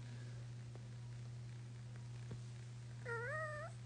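A cat gives a single short, high, wavering squeak-like meow near the end, over a low steady hum and faint background noise.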